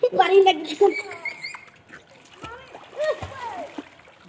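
Water splashes in a swimming pool as someone swims, with voices, including a child's, talking over the sloshing throughout.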